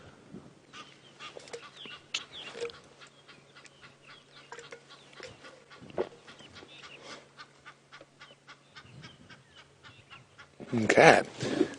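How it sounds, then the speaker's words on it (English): An Egyptian goose calls repeatedly on an early-morning safari drive in wet weather, a run of honking notes at moderate distance, with a louder burst near the end. "We can hear an Egyptian goose."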